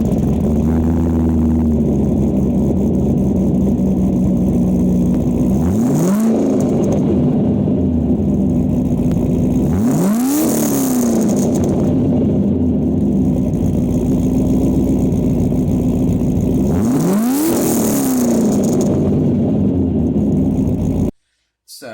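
A 2005 Corvette with tube headers, high-flow cats, X-pipe and MagnaFlow exhaust, idling with a deep steady rumble and three sharp revs rising and falling, loud and close.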